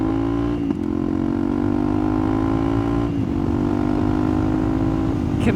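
Motorcycle riding on the road, a loud, steady engine drone with a gently rising pitch, briefly dipping at two gear shifts, close and continuous with no talk.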